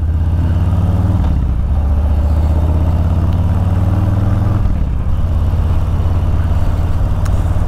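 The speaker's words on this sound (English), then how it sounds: "The motor's getting a bit smoother." The engine of a 2021 Harley-Davidson Street Bob 114 motorcycle runs loud and close, with a steady low throb that dips and shifts briefly a couple of times.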